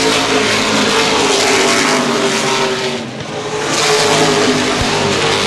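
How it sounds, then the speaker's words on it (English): Loud late model race car engines roar past on an oval track in a dense, sustained drone, dipping briefly as cars pass before swelling again. "Look at Chad Richardson rumbling around the outside groove."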